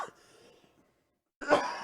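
A single short cough opens, followed by quieter breathy sounds, a pause of silence, then a louder burst of throat noise at the end.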